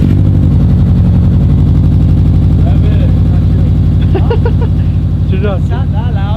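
A Subaru engine starts and idles loudly through a new full exhaust system with headers and catback, a deep, throbbing rumble, and voices talk briefly over it near the end.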